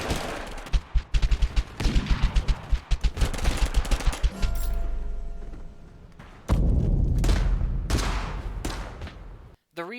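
Rapid bursts of automatic gunfire from a shootout in the video game Apex Legends hammer away for about four seconds, followed by a lower rumble and more dense shooting, with a voice speaking briefly now and then.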